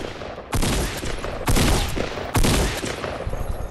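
Three heavy bursts of video game gunfire land about a second apart, each a loud sharp crack that trails off into a noisy tail, close and punchy with no talk.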